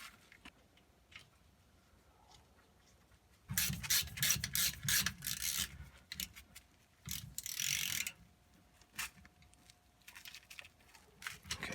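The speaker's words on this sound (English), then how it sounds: "I'm gonna torque down all these 10 bolts to 15 foot-pounds" Bolts on a 2002 GMC Sierra torqued down with a wrench, heard as bursts of clicking ratchet and grinding metal in short bouts after a quiet start, close by with no talk.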